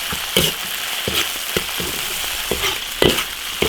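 Chili peppers stir-fried in hot oil in a wok for a spicy mala hotpot give off a steady close sizzle, broken by repeated sharp spatula scrapes and clanks against the metal.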